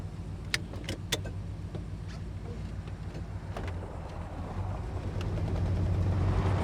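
A 1968 Plymouth GTX 440 convertible idles with a steady low engine rumble that swells slightly toward the end, punctuated by a few sharp clicks and light mechanical knocks close by.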